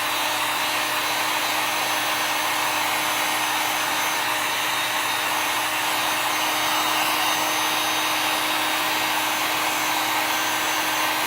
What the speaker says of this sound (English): With our embossing gun or the embossing powder. A high heat will melt it.